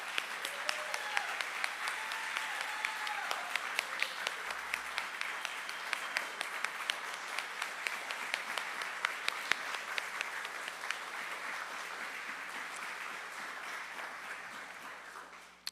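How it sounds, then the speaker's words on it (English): A congregation at a Sunday church service gives sustained applause for the choir, a long, steady wash of many hands with a few cheers and whoops, fading slightly toward the end. "Please give them a round of applause."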